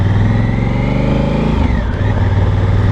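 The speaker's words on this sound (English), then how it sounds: "I want you guys to be able to hear what it sounds like on the bike" A Honda Africa Twin Adventure Sports motorcycle ridden in the rain, its engine and exhaust a loud, steady low rumble with a brief dip in revs partway through, close to the rider and with no talk.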